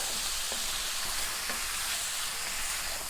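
Meat browning over medium heat in a pan gives a steady, close, dense sizzle, with a soft scrape or clack of stirring about once a second; no one speaks.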